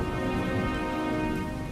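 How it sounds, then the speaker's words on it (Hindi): Heavy cartoon rain pours steadily over a farm field, a dense, loud, continuous hiss of falling water with no voices. "बारिश भी बहुत तेज हो रही है।"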